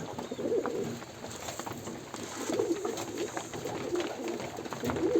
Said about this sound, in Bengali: লক্কা কবুতরও খাবার দিয়ে দিলাম